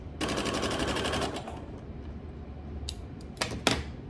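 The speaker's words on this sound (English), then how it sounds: "Line them up, and sew a 1/4 inch seam allowance." Sewing machine stitching a quarter-inch seam on quilt pieces placed right sides together, a fast rhythmic whir for over a second, then quieter handling clicks and taps.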